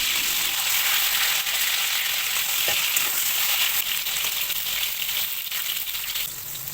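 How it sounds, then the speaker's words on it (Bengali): Eggplant slices fry in hot mustard oil in a wok over a gas stove, a loud, steady sizzle and crackle that holds evenly throughout with no voices. "তেলটা ভালো করে গরম হয়ে গেলে একে একে বেগুনগুলো কড়াইতে দিয়ে দিলাম।"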